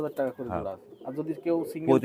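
Teddy pigeons of the KTM, Oman and 128 varieties coo in low, throaty, repeated phrases, close and fairly loud, with people talking in between.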